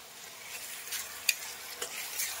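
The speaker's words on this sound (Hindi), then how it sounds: "अभी सिर्फ हम प्याज का डाल रहे हैं" Finely chopped onions with a little salt sizzling softly in a pan for butter paneer masala, a quiet steady fry with a few light stirring scrapes.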